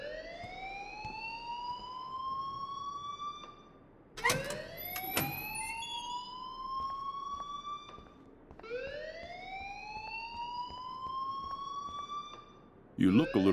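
A loud electronic alarm in the video game Life is Strange Remastered wails in rising, repeating sweeps, each lasting about four seconds, with sharp bursts and clatter between cycles as it keeps sounding steadily up close.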